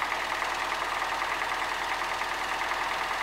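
An MTZ 80 tractor with a snow blade, frozen in a field, runs with a steady, dense engine drone and fast, even knocking at close range, with no talking.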